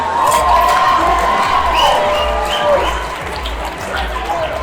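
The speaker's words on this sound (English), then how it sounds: "Cheer them on so we can hear it." An audience at a live event cheers, claps and shouts through a timed game, a steady loud crowd roar that eases slightly toward the end, with a host's voice briefly over it.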